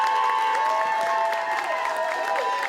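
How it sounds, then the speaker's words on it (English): An audience at a graduation celebration applauds and cheers, with the clapping and crowd noise sitting under sustained ringing tones that carry throughout. "so we can give you a round of applause really quickly"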